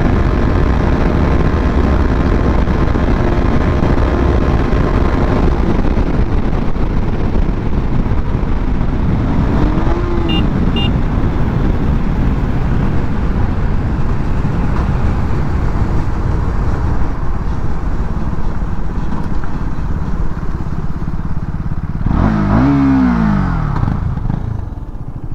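KTM Duke 250 and Duke 200 motorcycles race each other in a drag race, their engines droning loud and continuous with wind rush, pitch shifts from acceleration and gear changes, and a sharp rising whine late on.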